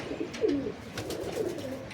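Clipped-wing breeder pigeons, Giribaz and Teddy birds, coo in two distinct low, rolling calls about a second apart, near and clear against a quiet background.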